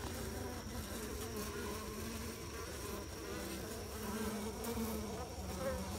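Honey bees swarm-buzzing inside an open hive during an inspection, a dense steady drone of many wings close to the microphone with no talk, constant throughout.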